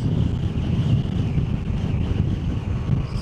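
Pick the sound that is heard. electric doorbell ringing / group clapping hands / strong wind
strong wind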